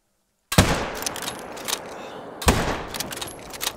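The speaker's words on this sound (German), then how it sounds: "So, Schuss kommt." Two loud rifle gunshots ring out about two seconds apart in theHunter: Call of the Wild, each a sharp crack with a ringing, echoing tail that fades out.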